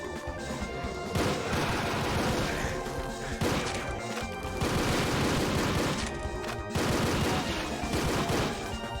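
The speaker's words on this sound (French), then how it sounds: "On a le pistolet de base de Doom" A tweaked version of the base pistol fires in rapid bursts in Doom II, loud and punchy. The burst-like shots are broken by short pauses and mixed with crashing impacts, and no one speaks.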